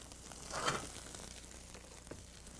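Greens hitting a hot pan for a quick stir fry of coastal seafood-style cooking, a short burst of sizzling that flares briefly then settles into a low, faint crackle.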